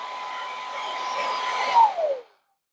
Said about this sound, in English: And here's our high.